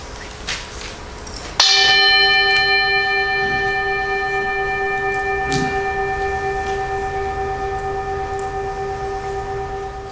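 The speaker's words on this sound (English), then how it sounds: "let us worship together as we invite the sound of the bell" A meditation bell is struck once at a worship service, a clear ringing tone that sustains and slowly fades over many seconds in a quiet room.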